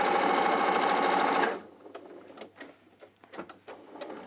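A sewing machine runs steadily for about a second and a half while stitching a fabric doorstop, then stops, followed by quiet handling sounds and small clicks.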